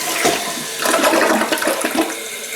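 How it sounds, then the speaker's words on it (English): Newly installed toilet flushing, a loud, close rush and gurgle of water that swirls steadily for a couple of seconds, with no talking. "Go ahead and flush it and see what happens."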